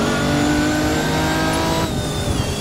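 Corvette engine revving hard in the racing game Grid 2, a loud, sustained high-pitched roar with a steady whine that dips briefly near the end, close and continuous with no talk.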